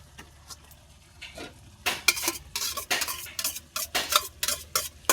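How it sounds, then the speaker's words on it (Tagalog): Spaghetti noodles go into a pot and are stirred, with a quiet start followed by irregular close clanks, scrapes and knocks of a utensil against the pan. "Ilagay na natin guys yung noodles."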